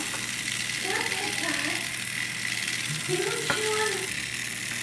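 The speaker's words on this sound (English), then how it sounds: "I find that this IKEA whisk does a really good job whisking the matcha." Matcha being whisked with an IKEA whisk gives a steady, rattling mechanical whir through the whole stretch, while a faint voice murmurs underneath.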